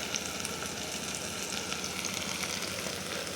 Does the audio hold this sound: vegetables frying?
yes